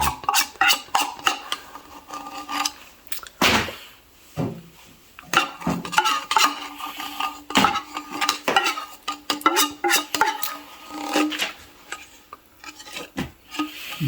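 A utensil scrapes and clinks against a pot while corned beef is stirred, with irregular close scraping strokes and metallic taps repeating throughout.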